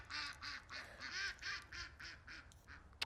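Mallard ducks quack in a steady series of loud, close calls, about a dozen in quick succession with short gaps, each call bright and nasal, with no voices over them.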